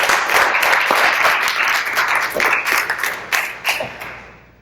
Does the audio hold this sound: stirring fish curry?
no